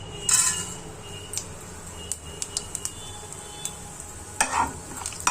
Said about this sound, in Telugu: ఆయిల్ వేడైందమ్మా, తాలింపు గింజలు వేసేసుకుందాము.